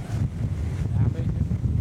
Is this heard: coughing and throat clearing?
no